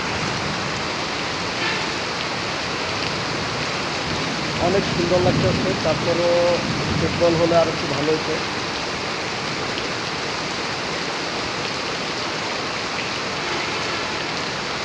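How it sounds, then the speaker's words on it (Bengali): Heavy rain driven by wind hisses steadily and evenly throughout, a dense close wash of sound, with someone talking briefly over it midway. "দেখেন বৃষ্টির কতটা প্রভাব, বাতাসের গতি"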